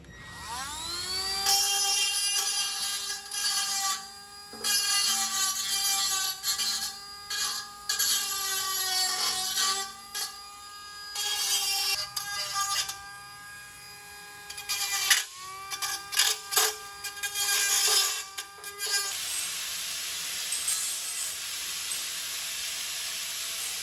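A hole cut in a steel 6L80 transmission pan is deburred with a power tool, its high whine rising and stopping in repeated bursts with gritty grinding between, close and loud, no speech.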